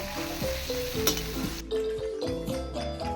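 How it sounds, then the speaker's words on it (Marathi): Onions fry in hot oil for chicken biryani with a steady bright sizzle and crackle, while music plays underneath. "तें पियाव फ्राय करता ब्राउन जावपासून फ्राय करता"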